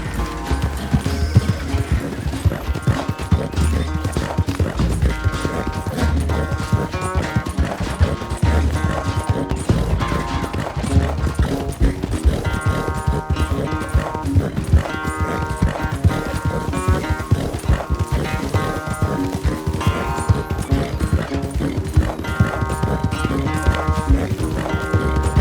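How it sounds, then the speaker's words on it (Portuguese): A horse gallops at full speed in a Red Dead Redemption 2 race, a steady loud clip-clop of hooves with occasional whinnies, running continuously over a dense game soundtrack. "me deparo com essa mulher em cima de um cavalo grandão, aonde ela me desafia a pegar uma corrida de cavalo com ela"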